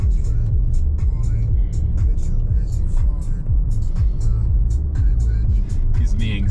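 A car drives along a winding canyon road in Southwest Utah, its engine and tire rumble steady and close throughout, with occasional ticks and knocks over the continuous road noise.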